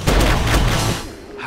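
A burst of gunfire in a zombie movie trailer, several loud, closely spaced shots rolling into a booming echo that fades toward the end, heavy and near.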